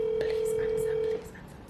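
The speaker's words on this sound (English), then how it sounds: "It has a ringing now." A phone call rings through a handset as a steady single-pitch tone holds for just over a second, then cuts off, leaving quiet line noise.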